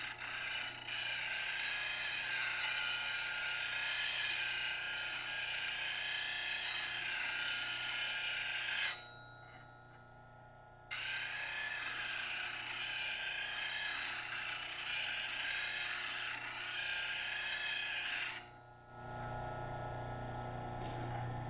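A wood lathe turns a bowl while a tool takes a cut, making a sustained loud rasping whir that drops away briefly mid-way, resumes, then gives way to a lower motor hum.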